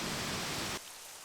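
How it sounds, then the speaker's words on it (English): Steady rain hiss as a storm effect behind a dramatic reading, loud and broadband, dropping sharply to a quieter wash partway through, with no voice over it. "They stood in the rain, unmoving."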